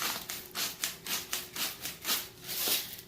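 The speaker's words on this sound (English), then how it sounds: "so I'm just going to grind some in there." Salt ground by hand from a grinder into turkey pot pie filling, a close rhythmic grating of about ten quick scraping turns, steady and even with no talking.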